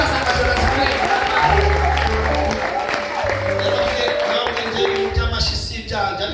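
A church congregation claps along in a loud, steady stream beneath singing voices and music, the clapping continuous throughout.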